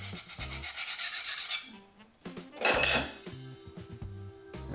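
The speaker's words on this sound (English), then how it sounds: "I've got a diamond card to sharpen on the outside. I just rock it on there until I feel it's on there flat." A woodturning tool is sharpened on a diamond card, giving a series of quick rhythmic metallic rasping strokes followed by a few lighter scrapes and clicks, close and fairly quiet.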